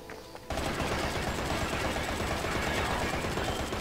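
Sustained rapid gunfire from the Bayonetta video game bursts in after a quiet half-second and roars on continuously, loud and dense, with no talk over it.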